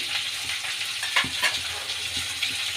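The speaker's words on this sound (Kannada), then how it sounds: "ಈಗ ಕರ್ಬೇವಿನ ಸೊಪ್ಪು ಹಾಕ್ಕೊಳ್ಳೋಣ ಫ್ರೈ ಮಾಡ್ಕೊಳ್ಳೋಣ" Curry leaves frying in hot oil give a steady, close crackling sizzle with small pops and a few light clinks of a spoon against the pan, no voices over it.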